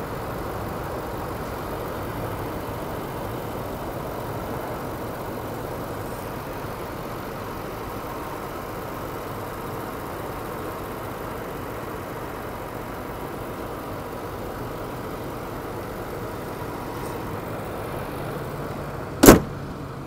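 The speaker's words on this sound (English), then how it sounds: "Engine." A 2019 Land Rover Range Rover SV Autobiography idles with a low, steady engine hum heard from nearby, unchanging for a long stretch, interrupted near the end by a single sharp knock or click.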